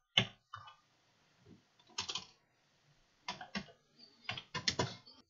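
Scattered bursts of keystrokes on a computer keyboard while VBA code is entered, coming in short irregular clusters of clicks separated by brief pauses, close and fairly quiet.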